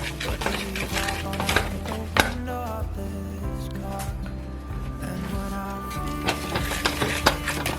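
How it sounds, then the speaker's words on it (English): Batter is mixed in a bowl with close, steady sloshing and stirring. Clinks of utensil against dish come through, along with some tonal, squeaky scraping. "I'm gonna mix it all together. Ah, I'm sloshing."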